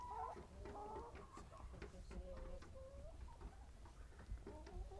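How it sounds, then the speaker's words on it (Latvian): A domestic hen clucks in repeated short, throaty bursts at close range, with farmyard background noise. "Vista."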